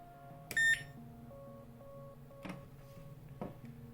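A multimeter gives a short, sharp continuity beep while probing a fuse on a GTX 680 Windforce graphics card, a single quiet tone with faint clicks of the probes afterward.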